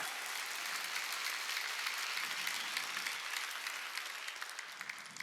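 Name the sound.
church congregation applauding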